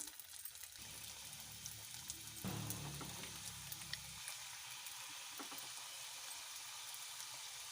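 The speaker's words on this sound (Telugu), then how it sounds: "గ్యాస్ పై కడాయి పెట్టి ఆయిల్ పోసుకుందాం. చూడండి ఆయిల్ వేడైంది. ఇందులో వేసుకుందాం మనం సమోసాను." Samosas frying in hot oil in a kadai on a gas stove give a steady close sizzle and bubbling, which briefly grows louder as more pieces go in, with no talking.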